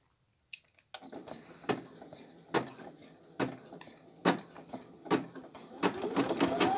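A Brother Innovis F480 sewing and embroidery machine stitches an embroidery design, giving a steady mechanical whir broken by a regular series of sharp clacks about once a second, close and fairly quiet, with no talking.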